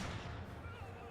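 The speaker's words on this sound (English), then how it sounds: "Mortar shots continue to fly." Mortar shots in the real-time strategy game Company of Heroes 2 boom in a dense, loud roar of artillery fire that fills the whole short moment without a break.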